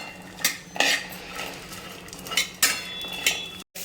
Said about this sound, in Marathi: आता जे आपण सोलाने किंवा ओले हरभरे सोलून घेतलेले आहेत ते आपण टाकून घेऊया छान असे आपल्याला खमंग भाजून घ्यायचे आहेत